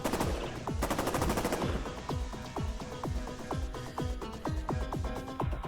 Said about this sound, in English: Gunfire rang out after Sakumi's response.